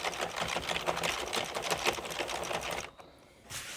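A circular sock knitting machine runs with tricky yarn, silicone applied and early weights fitted, giving a dense steady mechanical clatter throughout that briefly drops out near the end before resuming.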